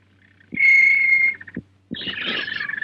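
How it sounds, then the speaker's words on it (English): Canaries in a bird shop break into song together, a bright sustained trill followed by a busier warbling chorus, loud and close with no voices. "A canary, you said, and my dear little birds at once answered themselves."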